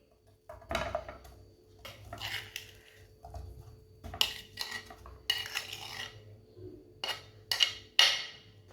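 Spiced mashed potato filling for homemade rolls being stirred in a pan, heard as a series of close scraping and clinking utensil strokes in irregular bursts, with brief pauses between them and no talking.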